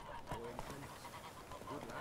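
Geese honking inside The Witcher 3: Wild Hunt, several repeated nasal honks heard at close range over a constant game ambience, with someone speaking over the flock.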